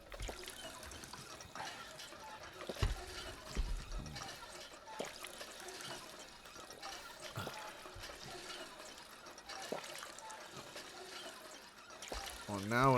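Drinking purified water in the video game Fallout 4 in survival mode: a watery gulping and pouring sound under busy game ambience, with a voice nearby.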